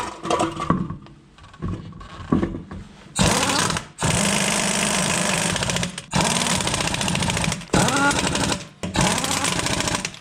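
Impact gun on its lowest setting running lug nuts onto a wheel of a 1997-2005 Lexus GS/IS, loud close bursts of hammering rattle, several long runs separated by short pauses.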